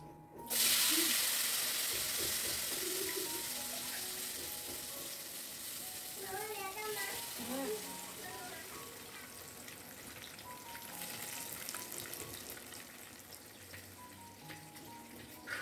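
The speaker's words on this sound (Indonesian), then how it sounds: "lanjut aku mau goreng tempe ya teman-teman" Small pieces of sliced tempe fry in hot oil in a pan in a home kitchen, giving a loud, steady sizzle that runs throughout, with a few clinks and faint background sounds.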